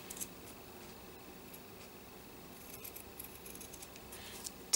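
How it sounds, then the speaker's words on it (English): Scissors cut across corner pieces of fabric for a silk slipper needlekeep, producing faint, soft snipping and light ticking at a close distance over a quiet background. "On these corner pieces up here, you're going to cut across."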